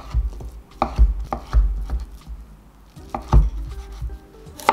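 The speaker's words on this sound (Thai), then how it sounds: "หั่นเป็นชิ้นพอคำ" A knife chops tofu into bite-size pieces on a cutting board in a series of sharp, irregular thuds, close and clear, with quiet gaps between the cuts.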